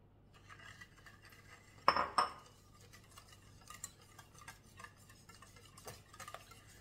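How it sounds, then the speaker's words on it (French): Eggs are mixed with sugar in a bowl using a utensil, giving faint, light clinks and scrapes at close range. One louder burst of stirring comes early, then quieter, scattered taps follow. "Donc on vient mélanger nos œufs. Avec le sucre."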